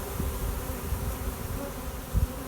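A honeybee swarm gathers at a hive in the afternoon, and the bees fan their wings in a steady, dense, close buzz that never stops, with a few louder individual buzzes passing by.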